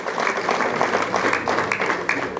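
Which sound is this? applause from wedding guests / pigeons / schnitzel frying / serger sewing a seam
applause from wedding guests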